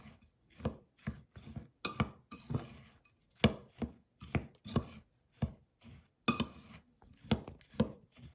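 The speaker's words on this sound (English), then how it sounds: "Next, I'm going to be adding 1/3 cup of granulated sugar. And I'm going to stir this together." Cracker crumbs and granulated sugar stirred together in a bowl, a series of close, sharp scraping and clinking strokes in an irregular rhythm, with no talk.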